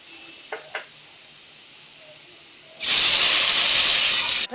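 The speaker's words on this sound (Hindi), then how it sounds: "जैसे ही आपका ये हल्का सा गोल्डन ब्राउन हो जाए, आप इसमें टमाटर का पेस्ट ऐड कर दें।" Tomato paste hitting hot oil with browned onion and garlic in a pan, erupting after a quiet moment into a loud, steady, broad sizzling hiss that continues to the end.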